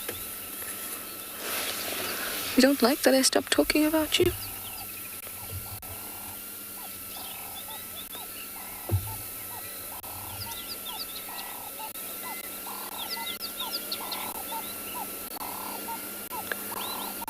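Wild birds call at sunrise on a safari, guinea fowl among them, with repeated faint chirps and calls scattered across the distance, a brief burst of close rustling noise early on, and a voice speaking once.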